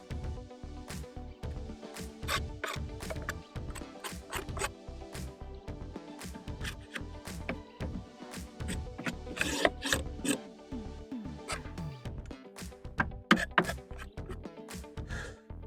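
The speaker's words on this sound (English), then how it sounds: "Take the Hive Tool, just scrape that out." A metal hive tool scrapes wax moth debris and scat from a wooden beehive frame, producing a close, continuous run of rough scraping and rasping strokes with sharp clicks and knocks throughout.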